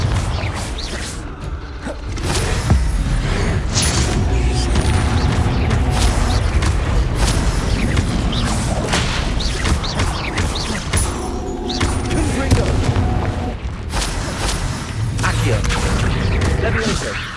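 Spell explosions in the Hogwarts Legacy video game, including Confringo, boom and crash continuously alongside whooshes and thuds, with a voice shouting spell names over the dense combat noise.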